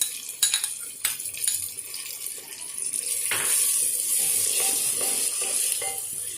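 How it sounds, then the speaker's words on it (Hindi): Onions sautéing with garam masala and garlic in a handi, a steady sizzle building after a few clinks and scrapes of a spoon against the pot. "अब मैं इसमें गरम मसाला ऐड करूंगी, इसको सौटे करूंगी और साथ में ही मैं इसके लहसुन डालूंगी।"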